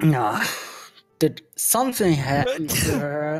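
A single sneeze, loud and close, followed by people talking over the rest of the moment in a casual tabletop game session.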